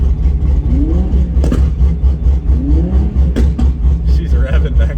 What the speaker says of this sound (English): She's revving back there.